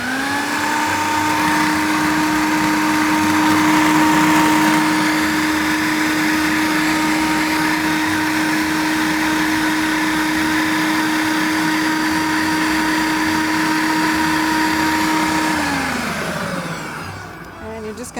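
A food processor blends chilled blueberry soup with lemon juice, a loud steady motor whine holding one pitch for about fifteen seconds before winding down near the end.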